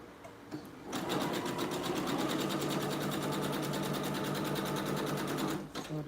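A serger sewing machine whirs into motion after a brief pause, running at a fast, even, rapid stitching clatter for several seconds before stopping, loud and close.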